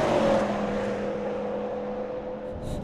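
Audi RS6 estate driven hard on a race circuit, its engine holding a steady loud drone with a sustained tone throughout, no voices over it.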